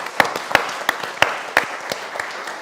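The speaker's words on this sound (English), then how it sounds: "Give yourself a round of applause." A church congregation claps during a worship service. The clapping is sparse and fairly distinct, with roughly rhythmic individual claps set against a light background wash.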